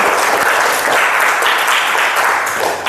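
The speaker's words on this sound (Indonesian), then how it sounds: "Tepuk tangan." A classroom of students claps together in a loud, close burst of rapid overlapping hand claps that holds steady for a few seconds.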